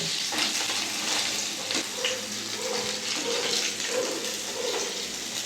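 Gurjali fish frying in oil in a pan, a continuous close crackling sizzle with small bubbling pops and occasional stirring, and no speech.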